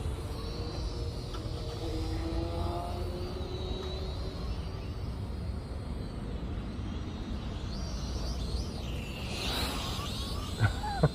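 A hexacopter drone flies at night, its rotors giving a steady whirring buzz with shifting pitch as it maneuvers and dives, continuous and fairly close under a constant wash of noise.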